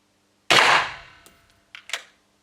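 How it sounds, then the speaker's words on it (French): An Umarex IMPAX P68 pistol fires a Titan ball at aluminium plates: one sharp, loud crack with a ringing tail, then two quick metallic impact clinks close by, with no talking. "À quoi s'attendre en termes de perforation sur des plaques d'aluminium avec de la bille Titan et le pistolet?"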